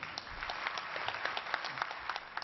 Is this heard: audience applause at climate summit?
yes